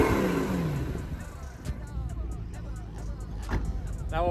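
A supercharged Audi R8 V8 engine gets a short rev, a brief rising roar that then settles, with a few sharp mechanical clicks close by.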